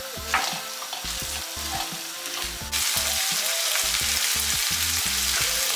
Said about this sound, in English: And then we're just going to mix it all together.